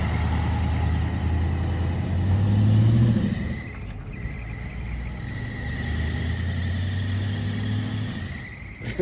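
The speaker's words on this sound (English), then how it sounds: "we got ourselves a water truck now" A water truck's engine runs at a race track, with a low rumble that swells into a rev, eases back, then climbs again in a steady drone.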